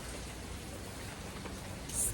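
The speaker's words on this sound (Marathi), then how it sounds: "ढगफुटी. एवढा पाऊस आहे." Heavy night rain during a cloudburst falls as a constant dense hiss, fairly faint and distant, steady throughout with no talking.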